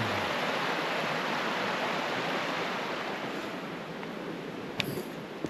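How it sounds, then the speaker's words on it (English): Water pouring and rushing along a storm-roughed stream with fallen trees, a broad, steady roar close by that fills the whole stretch, with a couple of faint knocks near the end and no talk. "the water just pouring"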